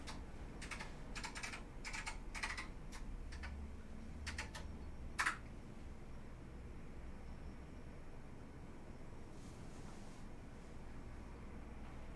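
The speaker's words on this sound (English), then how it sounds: "Now type the password." A password goes in on a computer keyboard: a quick cluster of soft, close key taps in the first five seconds, with one slightly louder press, then near silence with low background hum.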